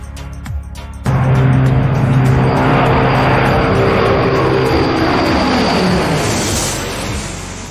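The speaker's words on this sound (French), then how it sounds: "Les hélices produisent un tel bruit en raison de la vitesse incroyable à laquelle elles tournent" A loud, roaring Tupolev Tu-95 propeller aircraft drone with a deep propeller rumble starts abruptly after a second and holds steady, slowly fading near the end.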